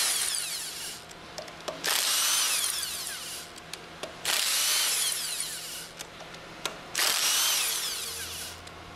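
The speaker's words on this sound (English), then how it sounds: "Use the impact wrench with a 10mm hex drive attached to remove the remaining 6" An impact wrench fitted with a 10mm hex drive backs out retaining bolts on an HF packing stack, three loud, sustained bursts of whirring and hammering, each a few seconds long, with short quiet gaps between them.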